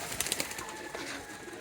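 Pigeons at a loft coo in soft, repeated throaty calls close by, with a few sharper pulses early on over a constant background hum; no one talks.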